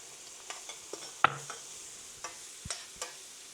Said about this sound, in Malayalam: ചൂടായ എണ്ണയിലേക്ക് നമുക്ക് സവോള ഇട്ട് കൊടുക്കാം.